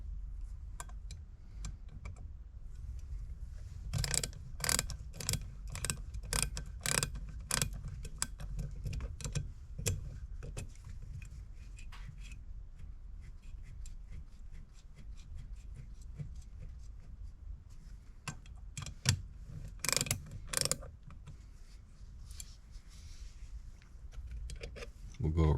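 Ratchet work on the carburetor bolts of an International Harvester Utility 300/350 tractor: faint, irregular clicking bursts of a ratchet in a quiet workshop, coming in short runs with pauses between them.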